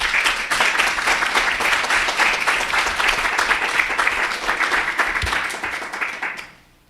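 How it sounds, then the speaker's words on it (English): Warm applause greets a speaker at a lecture series, a dense, even roar of clapping from an audience that holds steady for several seconds before fading quickly to near silence. "Kindly help me welcome her with an applause."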